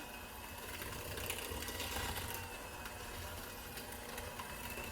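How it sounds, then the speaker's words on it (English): An electric mixer beating brownie batter runs continuously with a steady mechanical whir and hum, moderately loud and unbroken, with no voices. "I'm going to turn off my mixer"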